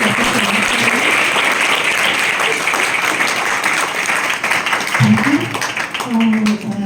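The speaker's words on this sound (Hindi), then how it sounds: "तो एक बार बच्चों हम जोरदार तालियों के साथ" Schoolchildren at a village school event clap loudly in sustained, dense applause, with a few voices briefly audible near the end.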